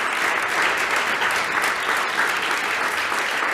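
A church congregation breaks into loud, sustained applause, a thick and even roar of many hands clapping that fills the space from start to finish with no talking over it.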